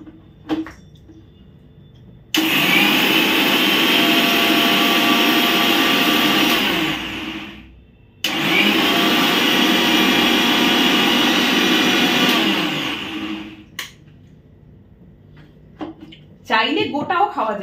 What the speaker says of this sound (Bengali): এই যে দেখো, আমি এটাকে এবার এখানে ব্লেন্ড করে নেব